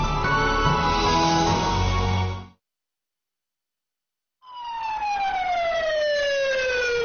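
An ambulance siren wails loudly as the vehicle speeds into a military general hospital in Jinan. It cuts off for about two seconds, then returns as a falling, sweeping tone.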